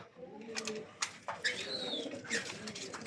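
A breeding pair of pigeons sitting on eggs coos in soft, repeated calls close by, with bursts of wing or cage rustling between the coos.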